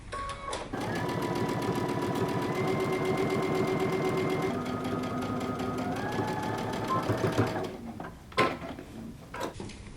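A sewing machine runs a steady, continuous stitch along the shoulder seam of a jumpsuit, then stops, followed by a few scattered handling knocks.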